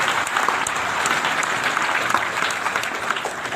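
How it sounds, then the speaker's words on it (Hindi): Audience applauding at a Hindu religious discourse on the Ramayana, steady, dense clapping from a large crowd that holds at an even level throughout, with no speech over it. "अब तो आप लोग प्रेम से ताली बजाएंगे ही।"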